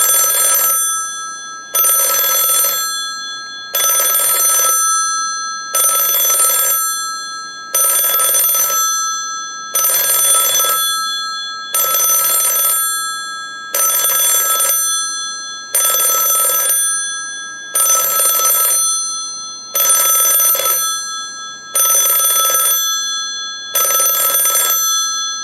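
An office desk telephone rings in a steady repeating pattern, a dozen loud electronic bell bursts spaced about two seconds apart, each burst alone with no talk.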